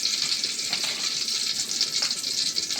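A bay leaf and whole spices sizzling in hot ghee and oil, a close, steady bright crackle and hiss with a few soft pops, no talk.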